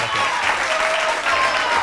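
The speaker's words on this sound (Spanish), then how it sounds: "Un aplauso para José Roma" Brief burst of studio audience applause for José Roma on a Spanish-language TV show, dense clapping heard close, with faint tonal background sound beneath it.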